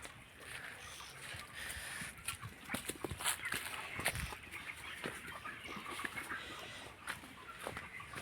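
Chickens cluck and call continuously in a busy 1000-bird poultry shed, with occasional sharper squawks standing out over the steady flock noise.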